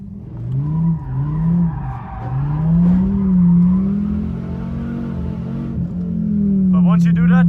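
A Dodge Viper ACR sports car drives a mountain road, its engine a loud, steady in-cabin drone that rises and dips with throttle, with a voice speaking over it.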